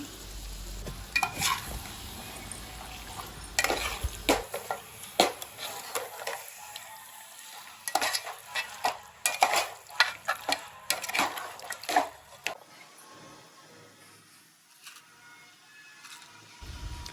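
Marinated mutton fries with onions for a spicy curry, a moderate sizzle under repeated scraping and clinking as a spoon stirs the pan, busier in the middle and quieter toward the end.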